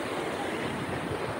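Heavy flow of water at Savatsada waterfall near Chiplun gives a short burst of close, constant rushing roar, full and even throughout, with no voices.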